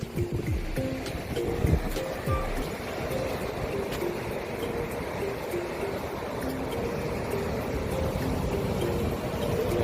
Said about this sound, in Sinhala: හරිය ටිකක් රළපාර සැර වැඩි.